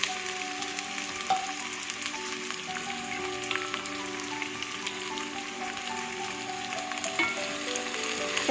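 Spring onions, carrots and beans fry together in a pan for Indo-Chinese fried rice, a constant rain-like sizzle with light stirring, over quiet background music.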